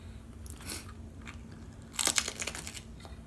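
Crunchy bites into jalapeno peppers during a spicy noodle challenge, close-up crunching and chewing, with a sharper burst of crunches near the end and no voices.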